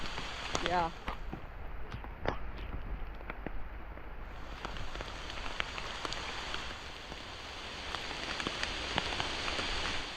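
Rain falling during a hike near Hawksbill Crag in the Ozarks: steady patter of drops on surfaces with scattered sharper taps and a dense hiss that grows slightly heavier, while a voice briefly speaks early on.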